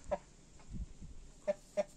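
A few short, sharp clucks from a Silver Wyandotte chicken, three distinct calls spaced apart over a quiet background with faint rustling.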